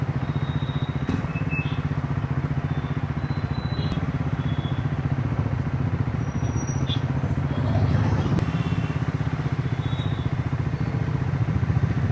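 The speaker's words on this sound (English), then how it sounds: "Exhaust thump." A Harley-Davidson X440T motorcycle engine idles with a low, steady thumping exhaust throb, close by, with a few faint chirps and clicks above it.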